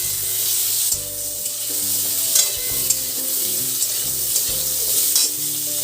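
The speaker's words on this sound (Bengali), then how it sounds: "এই তেলের মধ্যে এবার আমি আর যে সবজিগুলো ছিল, আলু, ঝিঙে, সব আমি একসাথে দিয়ে এবার ভেজে নেব" Potatoes and ridge gourd frying together in hot oil, a loud continuous sizzle with spatula stirs and scrapes, close up, with steady tonal hum beneath and no speech.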